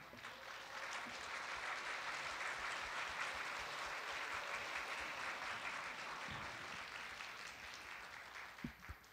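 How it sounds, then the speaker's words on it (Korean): Steady applause from an audience welcoming novelist Jang Kang-myung to a book-writing lecture, filling the whole stretch at an even level, fairly quiet overall with no talking. "장강명 작가님을 큰 박수로 맞이해 주시기 바랍니다"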